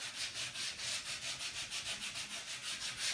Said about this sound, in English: I'll pick up a little softer piece of sandpaper or something.